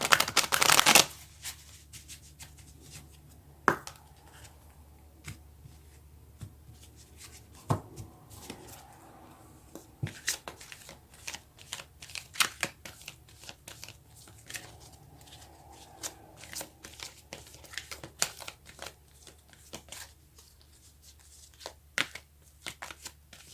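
Tarot cards are riffled in one loud burst at the start, then handled softly, with scattered faint taps and card flicks over a quiet room.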